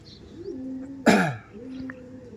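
An Andhra pigeon pair, a male and a female, gives a low coo with a sharp burst in the middle, close and fairly loud against a quiet background.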